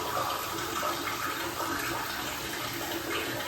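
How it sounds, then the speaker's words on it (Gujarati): Water pours into a cooking pot of vegetables for kodri khichdi, a steady, even splashing rush that stays close and continuous with no talk over it. "હવે આપણે આમાં પાણી એડ કરી પાણી"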